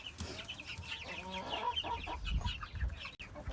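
A mixed-age chicken flock clucking and pecking, with busy overlapping clucks and soft chirps close by, plus light scratching and pecking thumps underneath.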